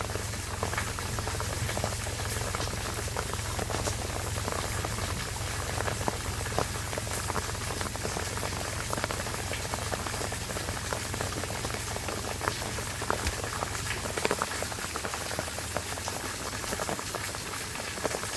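Heavy, constant rain hisses across everything with a roar of rushing floodwater underneath, steady and unbroken throughout, no voices.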